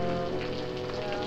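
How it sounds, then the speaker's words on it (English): Steady rain falls in a 1945 rural drama scene, a soft continuous hiss of drops on surfaces at low volume throughout the short moment, with no voices. "It's raining."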